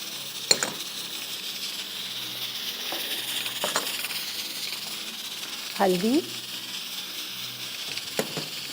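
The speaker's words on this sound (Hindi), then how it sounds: "इसके बाद इसमें डालते हैं कलौंजी के साथ इसमें डालते हैं थोड़ा सा ज़ीरा, साथ में ये राई के दाने" Nigella, cumin and mustard seeds fry in hot oil for a tarka, giving a soft, steady sizzling hiss broken by a few sharp pops and a brief scrape of stirring.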